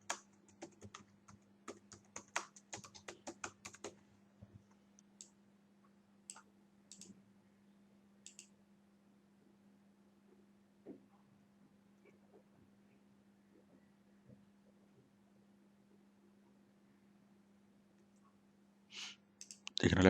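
Clicky keystrokes on a computer keyboard come in a quick burst at the start, then thin out to scattered taps with long pauses against a low steady hum, with another short flurry near the end.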